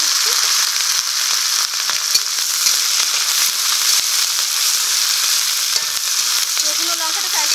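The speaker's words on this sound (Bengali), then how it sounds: "রসুন ও লঙ্কাটাকে একটু ভেজে নেব।" Garlic and slit green chillies frying in hot oil give a loud, continuous sizzle close by, with occasional stirring scrapes and pops throughout, no talk.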